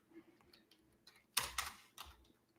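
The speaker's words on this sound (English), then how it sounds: "Oops, typing in the wrong window." A few soft clicks of computer keyboard typing sound close and quiet, with a sharper burst of rapid clattering in the middle, and no talking.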